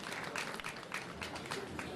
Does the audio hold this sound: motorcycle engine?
no